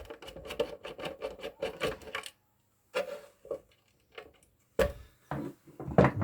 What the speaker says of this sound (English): So that's a 1/4 inch socket. Undo the binding posts.